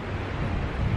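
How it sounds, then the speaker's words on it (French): A strong wind blows steadily across the microphone outdoors and rumbles loudly for the whole second, with no voices. "Et alors, il y a toujours énormément de vent."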